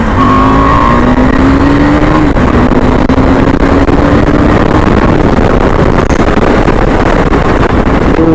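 A KTM Adventure 390 motorcycle pulls away hard, its engine note rising through the gears in a loud, continuous roar, with heavy wind buffeting over the microphone throughout.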